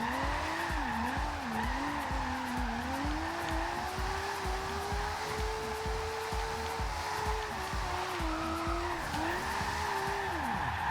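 Nissan Skyline R32 drift build in Forza Horizon 2 sliding through corners, a continuous loud engine drone with wavering pitch as the revs rise and fall, overlaid with steady tire squeal and skidding throughout, no voices.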